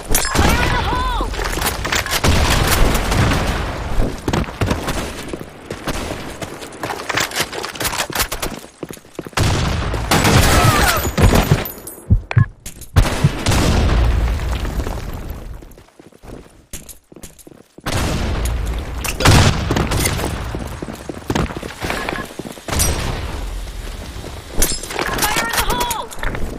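In a multiplayer shooter match, dense bursts of gunfire and booming grenade blasts rattle almost without pause for nearly half a minute, briefly dropping out, while voices shout over the action.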